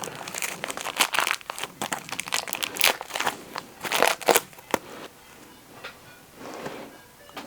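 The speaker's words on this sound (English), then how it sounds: "now you hear rustling plastic" Plastic packaging of a McFarlane Lobo action figure rustles and crinkles close up in irregular bursts, with brief pauses and a quieter stretch near the end.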